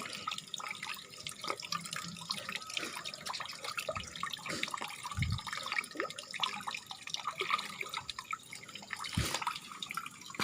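AB mix hydroponic nutrients being stirred into a water holding tank, a continuous close sloshing and dripping of water with scattered splashes and soft knocks, moderately loud throughout.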